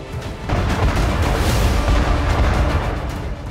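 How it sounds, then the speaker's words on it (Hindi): Landmine explosions in war-torn Zaporizhzhia, a loud sustained roaring blast with heavy low rumble that fills the whole short stretch and fades only slightly at the end. "ज़पोरिज्जिया में हर तरफ माइंस लगी होने से लगातार विस्फोट हो रहे हैं"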